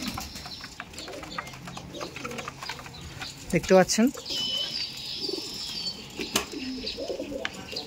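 Pigeons in a loft, among them Kaldom birds, coo softly in the background while someone talks close by, with a brief burst of flapping or scuffling midway.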